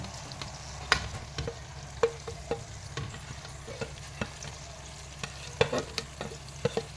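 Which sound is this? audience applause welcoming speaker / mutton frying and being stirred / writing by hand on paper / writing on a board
mutton frying and being stirred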